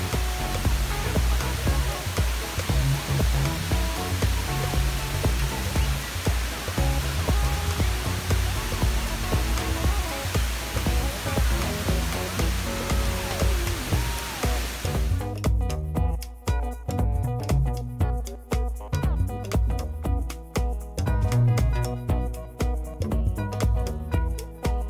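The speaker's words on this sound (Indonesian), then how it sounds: "menikmati suasana alam dan air terjun indoornya tadi" An indoor waterfall at Jewel Changi in Singapore gives a steady, dense rushing roar of falling water. Partway through it thins into a quieter, more broken wash with scattered nearby sounds.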